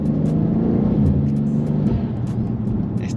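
A BMW G87 M2 with a fast-shifting gearbox accelerates, its engine a steady loud rumble with brief dips at quick gear changes, heard from inside the car.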